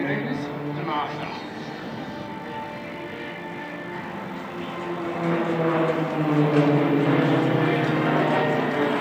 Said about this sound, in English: all of the aircraft will roll away from each other in the vertical nose down position